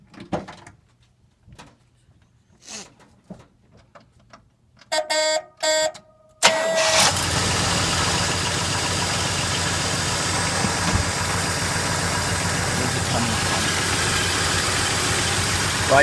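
A 1971 Cutlass with the air cleaner off cranks over in a few short bursts, catches and fires up, then settles into a loud, steady idle that runs to the end, with a few quiet clicks and knocks beforehand.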